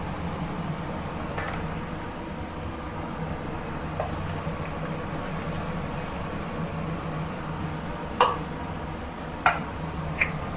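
Tap water runs steadily over taro roots in a kitchen sink, giving a constant soft hiss, with a few sharp clicks and knocks late on.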